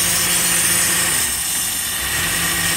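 A 2000 Lincoln LS engine idles steadily, recorded up close from underneath the car, with a constant loud hum and a slight dip in the middle of the recording.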